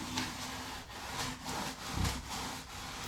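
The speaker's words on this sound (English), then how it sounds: "The handsaw" A handsaw cuts by hand through a foam blank for a foil board, making steady back-and-forth rasping strokes, about five close strokes in a regular rhythm with no talk.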